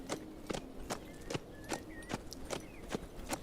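A horse walks in the video game HumanitZ, its hooves clopping in a steady, even rhythm, fairly quiet and close, over a faint background.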